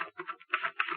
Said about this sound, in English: And the typewriter clacked